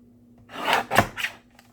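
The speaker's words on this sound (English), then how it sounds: "And I'm going to trim a little bit off this side." Coloured card being trimmed, three short close scraping cuts in quick succession, quiet and alone.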